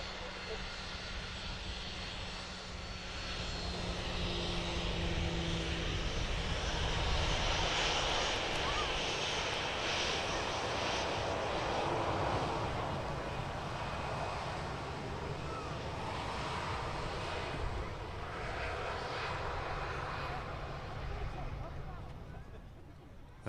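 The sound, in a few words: Ryanair Boeing 737-800 taxiing at Manchester Airport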